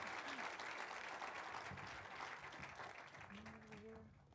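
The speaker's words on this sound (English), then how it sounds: "So could we have a round of applause for Tina and her team?" Round of applause from an event audience at a startup accelerator finale, a dense, even wash of clapping that holds steady throughout and thins slightly at the end, with faint voices and brief tones beneath it.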